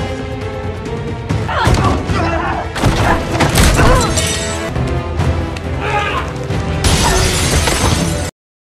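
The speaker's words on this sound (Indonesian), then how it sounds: "telah membantu memecahkan kaca" Glass is smashed during a fight scene in a treasure-hunt film, with bursts of crashing and shattering, thuds and booms. Dense background sound and voices run throughout.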